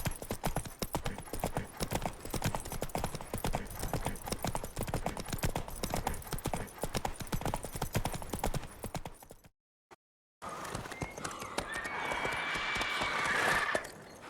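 The horse Roach gallops in The Witcher 3, hooves pounding in a fast, dense rhythm for most of the run. A brief near-silent break is followed by hoofbeats mixed with a louder, brighter background.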